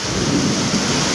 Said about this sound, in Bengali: প্রচুর বৃষ্টি, মেঘ ডাকছে,